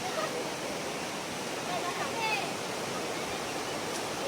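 Steady broadband rush of the Krueng Baru river flowing in Aceh, a continuous even wash of water throughout with no clear voices on top.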